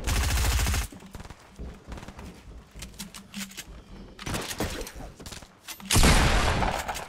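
Bursts of rapid automatic gunfire in the video game Fortnite, loud near volleys at the start and again near the end, with quieter scattered shots and game sounds in between.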